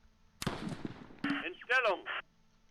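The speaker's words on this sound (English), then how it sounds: "Oh, they still have a light mortar." Light mortar fire in the Close Combat WWII tactical game, a burst of sharp shots followed by a whistling, warbling sweep and impact, brief and fairly loud.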